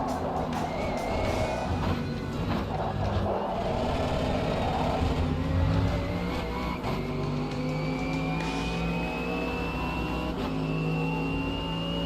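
Race car engine in the Automobilista 2 racing game during a packed-grid race, droning steadily with rising rev sweeps and gear changes, other cars roaring close by throughout.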